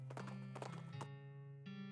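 Horse hooves clip-clop in quick rhythmic bursts during riding in a video game, layered over sustained, tonal background music.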